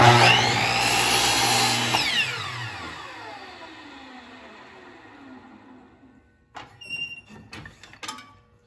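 A power miter saw makes the final cut on a wooden picture frame piece, a loud whining cut that spins down over several seconds into quiet, followed by a few light knocks and clatters of handling the wood.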